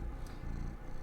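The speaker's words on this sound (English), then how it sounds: "he's purring right at the mic." A house cat purrs right up against a microphone, a faint, continuous low rumble with steady texture throughout, heard alone.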